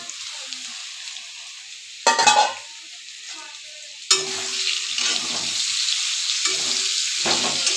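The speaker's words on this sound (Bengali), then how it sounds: "আলু ভাজাটা আমার হয়ে আসছে" Potatoes fry in a pan over a constant sizzling hiss, with two louder bursts of stirring and scraping that come through clearly and no voices.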